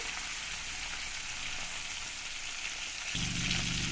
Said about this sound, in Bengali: পরের পুঁটি মাছগুলো দেখো আমি একই রকম করে এইভাবে দিয়ে একইভাবে ভেজে নেবো